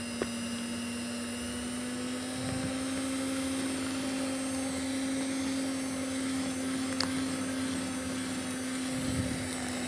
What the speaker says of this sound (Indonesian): Kita mixer lagi di kecepatan sedang.